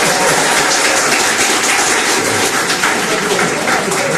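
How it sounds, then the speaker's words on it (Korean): Applause from party staff gathered at a People Power Party meeting, a loud, close, continuous wash of many hands clapping that stays steady for several seconds with no talking. "박수 한번 부탁드리겠습니다"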